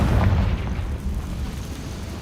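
A Confringo spell explosion in the Hogwarts Legacy video game, a loud low rumbling boom at the start that fades into a continuous dull roar over the following seconds.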